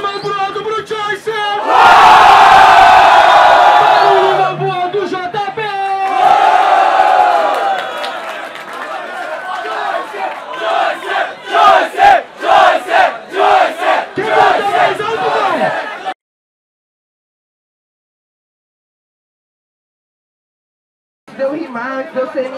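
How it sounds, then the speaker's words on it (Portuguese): Crowd at a Brazilian street rap battle erupts in loud cheering and shouting, with a host calling out between bursts of noise before a sudden silence and a brief return of voices. "Barulho mais pro alto pro Choice."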